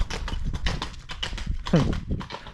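A rider on horseback approaches in a Ukrainian village, the hooves clip-clopping in a steady rhythm of close, distinct strikes, with a voice talking over them throughout.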